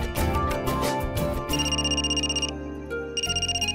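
A phone rings over background music in a home preparing for a wedding: a steady electronic ringtone melody with repeated tonal bursts, moderately loud, with no voices.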